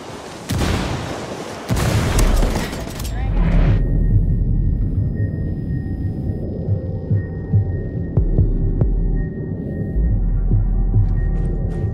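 A frag grenade in the Ghost War video game goes off with a loud burst, followed by a long, deep rumbling throb that lingers under the game audio.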